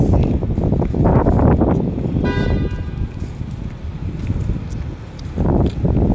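Strong wind buffets a microphone outdoors on a street lined with new buildings, a loud low rumble that surges and eases in gusts, with a faint distant tone partway through and no talking.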